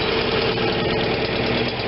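A Kohler Command Pro 25 engine on a Vermeer BC625a brush chipper idles steadily, a loud, even, rough mechanical rumble with no one speaking.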